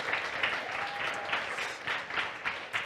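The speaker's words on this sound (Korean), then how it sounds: "우리 데코로 수고해 주신 분들께 우리 박수 한번 우리 했으면 좋겠습니다." A church congregation at a Sunday service applauds the decoration team. The clapping is loud and close and swells in regular rhythmic pulses, roughly two per second, throughout.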